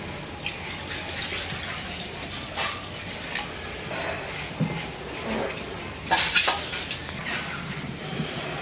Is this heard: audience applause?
no